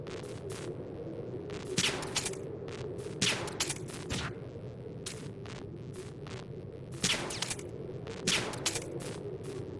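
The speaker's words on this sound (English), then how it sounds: "I think the other one shotgunned me." Shotgun fire in Metal Gear Solid 2, heard as a scatter of sharp, fairly quiet blasts that come at irregular intervals over a steady background hum, a few of them louder and closer.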